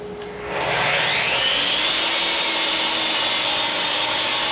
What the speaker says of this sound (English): I'm gonna cut it in half just so I can run it through the planer